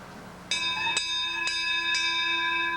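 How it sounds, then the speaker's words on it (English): A bell rings in a 1994 stage play of Heidi, struck about four times at an even pace, with clear ringing tones that sustain between strikes. "And Peter's bell."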